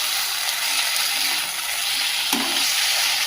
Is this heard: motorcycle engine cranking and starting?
no